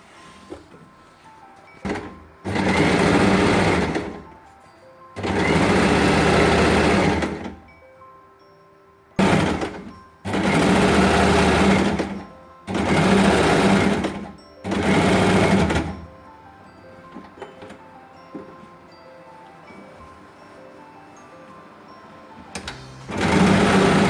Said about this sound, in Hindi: अब हम कवर सिलाई लगा देंगे।